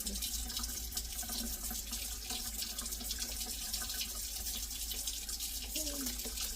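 A kitchen tap runs steadily over pork being rinsed in a sink, giving a constant faint hiss of flowing water with a little splashing throughout.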